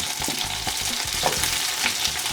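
Teriyaki chicken pieces fry in a pan with a steady, close crackling sizzle, broken by soft clicks and scrapes as the pieces are turned.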